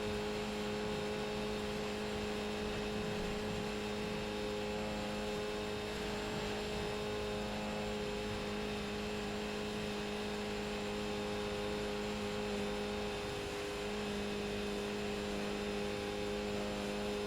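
Skip Barber Formula 2000 race car engine holding fourth gear on a long full-throttle run, a steady loud drone with strong sustained tones throughout and a brief pitch dip near the end.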